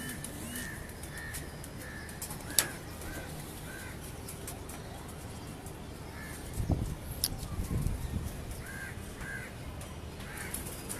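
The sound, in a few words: pigeons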